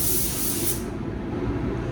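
A spray gun applies paint to a BMW M3 in a spray booth: a sharp, bright hiss of spraying for under a second, then a softer continuous rush of booth extraction.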